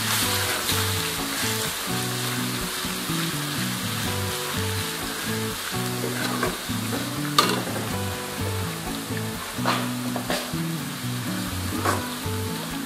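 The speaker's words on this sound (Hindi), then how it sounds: "अब इसमें जो है लहसुन का पेस्ट शामिल कर देंगे और इसे भी थोड़ा सा जो है ब्राउन कर लेंगे।" Onions and garlic paste fry and brown in a pan for kadhi pakora, a steady close sizzle with occasional stirring scrapes and pops, no voices.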